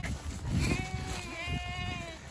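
Several sheep bleat in an open winter grazing paddock, wavering cries overlapping at close to mid distance over steady outdoor wind and rustle, with no talk.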